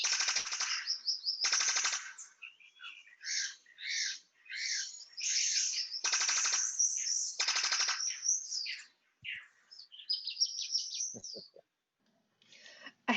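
Birds of paradise give courtship calls close by: loud, buzzy, rattling bursts and harsh chattering phrases broken by short silences, some as rapid as machine-gun fire.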